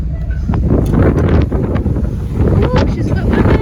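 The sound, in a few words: ferry at sea with wind on deck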